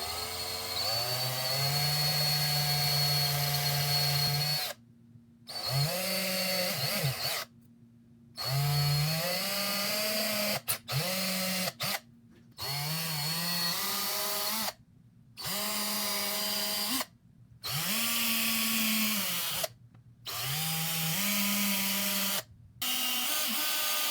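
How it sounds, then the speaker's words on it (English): A power drill bores holes through a wooden bat top for a homemade medieval flail, in about nine loud whirring bursts separated by short silent pauses, with no talking. "I'm going to use it and I'm going to drill where I marked it out"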